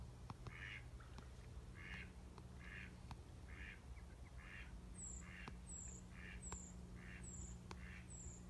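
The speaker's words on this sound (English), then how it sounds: "We have geese, Canadian geese." Canada geese honking in a nature reserve on a sunny walk, a regular series of calls repeating about every second, moderately distant, over a low steady background hum and outdoor ambience.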